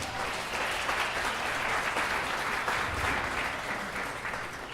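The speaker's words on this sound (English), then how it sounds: "please give Rodney a big round of applause" Wedding guests at a Park Pavilion reception give a big round of applause after a speech, a steady, even wash of clapping that stays at one level for the whole stretch.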